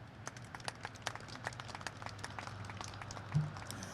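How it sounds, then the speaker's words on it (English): Scattered applause from a small group at a pedestrian bridge ribbon-cutting ceremony, individual claps distinct and uneven, fairly faint with a low background hum. "So let's applaud that effort."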